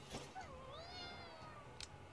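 Cat meowing in Ghostwire Tokyo, one clear drawn-out meow that rises and falls, heard close on its own against a quiet game background, with a short soft tap near the end.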